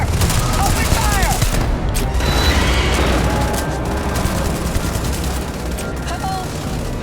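Sustained bursts of rapid gunfire from a Starfield combat firefight, loud and dense throughout, with shouted voices faintly mixed into the clatter.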